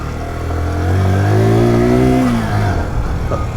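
A Zontes Monster 125 motorcycle engine revs up, holds a high-pitched buzzing peak, then drops back toward idle, close and loud, alone with no voices.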